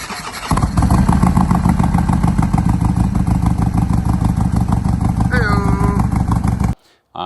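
A Harley-Davidson motorcycle engine starts, then settles into a loud, close, lumpy idle with a steady pulsing rumble. A voice speaks briefly over the engine before the sound cuts off abruptly near the end.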